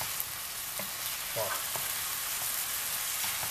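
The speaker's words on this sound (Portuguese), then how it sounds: "E agora nós vamos deixar fritando" Ground beef filling with peeled tomato sizzling steadily in a pan, a constant frying hiss with a few brief scraping stirs, and a short spoken word at the start.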